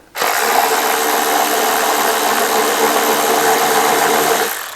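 A ratchet undoes bolts during a cambelt job on an X250 van, a loud, steady buzzing whir that runs without a break for several seconds and then stops.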